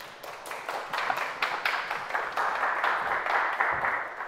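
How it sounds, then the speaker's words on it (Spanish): Strong applause from a lecture audience at an astronomy talk in the Palacio de la Autonomía, a steady wash of many hands clapping with no voices, swelling slightly and holding throughout. "Démosle un fuerte aplauso"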